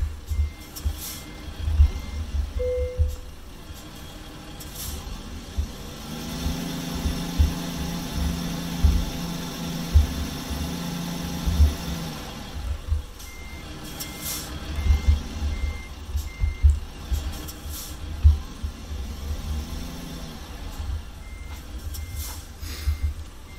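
A truck in the video game American Truck Simulator backs up, its reversing alarm beeping in regular spaced pulses over a low engine rumble, with a hiss of air brakes partway through.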